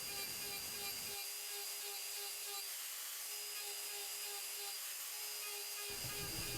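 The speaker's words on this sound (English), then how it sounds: "So here I am starting the texture on the outside rim using a larger burr in a die" A die grinder with a large burr texturing the outside of a wooden turned rim, a steady high-pitched whine that drops to a lighter grinding tone in the middle and comes back heavier at the end.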